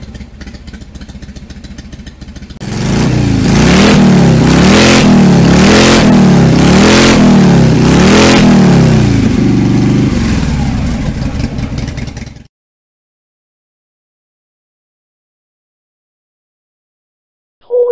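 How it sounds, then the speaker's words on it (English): A loud Harley-Davidson motorcycle engine revs close by in a series of rhythmic, pulsing throttle blips for about ten seconds, then cuts off into silence. "Does your motorcycle have to be so loud?"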